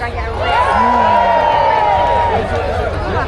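A crowd at the Jack in the Green festivities in West Hill, Hastings cheers loudly as northeast England sword dancers start dancing, with a swell of sustained whooping voices and hubbub rising close by and holding strong.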